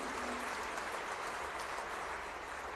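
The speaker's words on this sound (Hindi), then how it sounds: "ताली बजा रहे हो, हर्षनाद कर रहे हो" Dense, steady applause and cheering from a large audience at a community gathering, a continuous broadband wash of many hands clapping with no single voice standing out.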